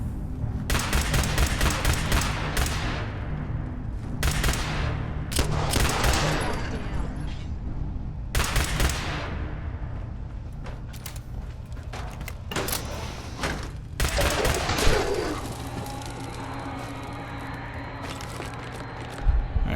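Repeated gunshots from a weapon in Fallout 4, sharp loud bursts separated by pauses, some in quick succession, with lingering reverberant tails and a low background hum.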